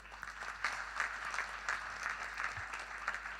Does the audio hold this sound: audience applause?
yes